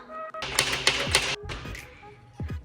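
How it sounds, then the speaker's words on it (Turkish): Several sharp knocks on a house door, a quick cluster of taps followed by a pause and a couple more, loud and close, with a voice speaking briefly near the end. "Şimdi çalayım da şu kapıyı açsın bakalım"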